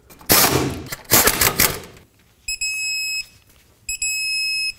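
An impact gun bursts loudly twice on the bolts of a Ford F-150 upper control arm. Two sustained electronic beeps from a torque wrench follow as the bolts reach their set torque.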